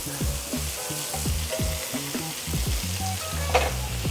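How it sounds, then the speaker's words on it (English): A burger patty sizzles steadily in a hot pan while butter is spooned over it, giving a close, continuous fry with soft spattering and no talking. "we're going to baste with our tiny amount of butter"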